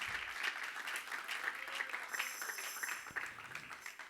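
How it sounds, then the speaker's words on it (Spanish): A church congregation claps hands loudly during a baptism sermon, a dense steady applause of many hands lasting several seconds, with some faint voices mixed in. "Dale palmas fuertes al Señor."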